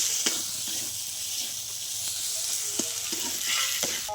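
Quail eggs fry in a pan with coriander powder and salt, giving a steady, close sizzle with intermittent scraping strokes of a spoon as they are stirred.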